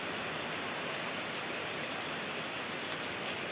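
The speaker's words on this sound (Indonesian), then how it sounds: "Kalau di sini musim hujan gila-gilaan pol." Heavy seasonal rain pours down steadily, a dense, even hiss of drops hitting surfaces that holds at constant strength with no talk over it.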